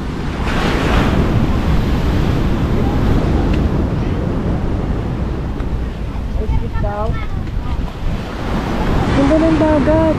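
Steady roar of ocean surf on a beach in La Union, Philippines, with heavy wind buffeting the microphone; brief voices break through near the end.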